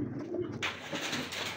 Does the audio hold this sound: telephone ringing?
no